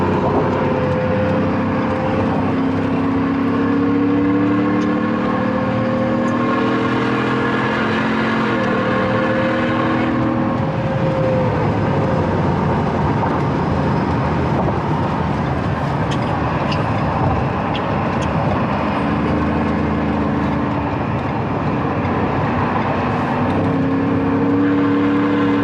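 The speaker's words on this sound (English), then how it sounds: "we just put the mic in the engine bay for some supercharger sounds" A supercharged Shelby engine heard from inside its engine bay, a loud, sustained drone with whining supercharger tones that rise and fall through several revs, close and continuous with no talking.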